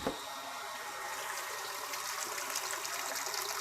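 Water pours steadily from a nearly empty water drum in a continuous broadband rush, close and fairly loud, with no voices over it.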